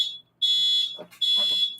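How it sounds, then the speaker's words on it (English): A shrill electronic alarm beeps in two long, loud bursts separated by a short gap, with faint indistinct sounds between the tones. "my alarm just went off for 3 minutes."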